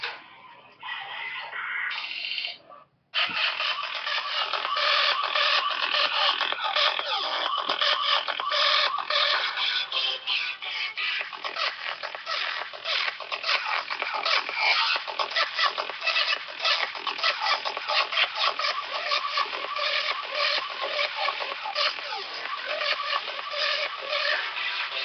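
An electronic dance track plays loud and continuous, with dense, harsh distorted synth textures after a brief opening stutter.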